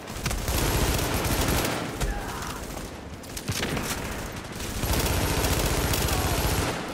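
Shotgun gunfire in The Division's Dark Zone, a loud, dense and continuous barrage of shots that fills the whole stretch with only a short dip in the middle.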